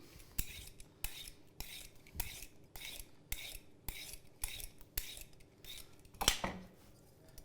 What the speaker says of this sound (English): So basically, we're just going to peel right into the pot.